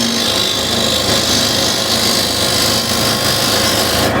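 A freshly ground woodturning scraper cuts the side grain of a spinning wooden bowl, producing a loud, continuous, even hiss of shaving and rubbing close by, with a steady lathe hum beneath.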